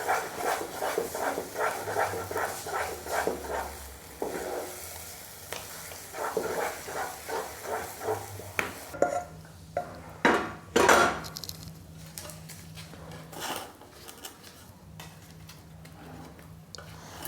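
A spoon or ladle stirs thick vrat burfi dough in a kadhai in a repeated rhythmic scraping, close and moderately loud, then gives way to a few louder clatters and sizzling bursts.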